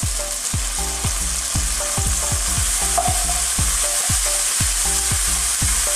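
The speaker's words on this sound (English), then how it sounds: "add now the tomato" Pork and squash with tomato for Filipino ginisang upo sizzle steadily in a pan. Rhythmic low scraping and knocking strokes from stirring repeat over the sizzle, close up and loud, with no talking.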